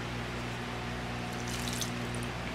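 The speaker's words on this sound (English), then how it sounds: "you're gonna add your water" Water is poured into a Trinidadian saheena mixture of spices and dasheen bush leaves, a faint, steady liquid pour and splash under a low background hum.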